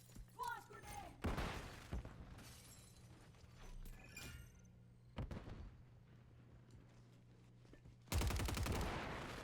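Bursts of gunfire in a hardcore team deathmatch video game, with sharp shots clustering early, mid-clip and loudly at the end over a steady game soundscape, a voice talking briefly among the shots.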